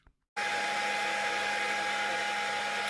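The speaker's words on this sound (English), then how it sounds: "I'm using the hair dryer to evaporate the water" A hair dryer, used to dry water off a 12-inch SkyWatcher 300P Dobsonian telescope mirror, switches on abruptly after a brief quiet moment and runs at a loud, steady whir with a constant motor hum, close by.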